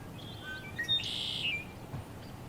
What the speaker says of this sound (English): You will hear the lovely birds singing